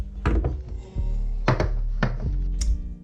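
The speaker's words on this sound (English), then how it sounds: "So inserting the magazine" Magazine seated into an Elite Force Glock 17 airsoft pistol, giving several firm, close thunks and clicks spaced across a few seconds with no talking.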